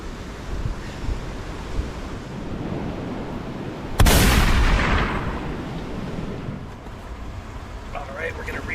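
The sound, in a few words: big ocean waves on a windy coast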